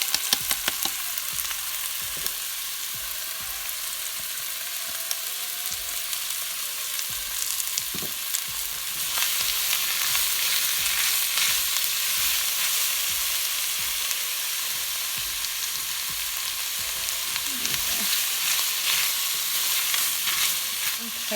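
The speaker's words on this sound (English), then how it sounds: "And now I add my onion and carrot, a cup each, to said pot." A cup each of chopped onion and carrot sizzling and frying steadily in a hot pot, a continuous crackling hiss that swells slightly partway through, with occasional stirring clatter and no talking.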